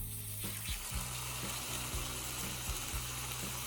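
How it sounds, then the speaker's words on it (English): Chicken breast sizzles loudly in a hot oiled skillet, a continuous crackling fry broken by regular low scraping taps, like stirring or moving the meat, with no one talking. "The moment the chicken touches the hot skillet, you'll hear that satisfying sizzling sound immediately."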